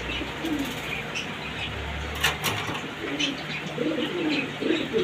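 Pair of yellow King pigeons cooing softly in a loft, low repeated coos under a busy background with a brief flutter of wings, and a voice speaking faintly nearby.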